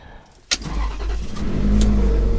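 A Ferrari 360 Challenge Stradale fires up with a sharp starter catch, then settles into a loud, close, steady idle rumble that swells slightly.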